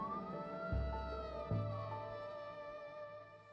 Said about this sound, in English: the sound of the blaring siren